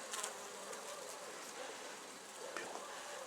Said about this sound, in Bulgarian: Ето малка пчеличка